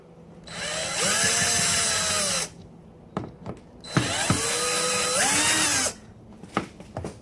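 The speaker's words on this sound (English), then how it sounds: "I don't usually use power tools on a boat." Power drill unscrewing fasteners on the steering wheel of a Cruisers Yachts 440 Express, two loud close whirring runs with pitch shifts, separated by clicks and handling clatter.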